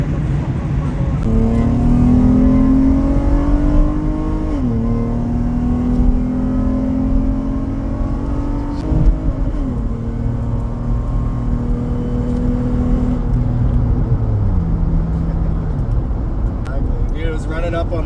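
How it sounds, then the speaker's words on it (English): A 2014 Acura MDX fitted with a full 3-inch exhaust and a tune revs repeatedly up toward its rev limit, a loud, close engine note climbing and holding in steady pulls, with voices faintly underneath. "Running up on the rev limit."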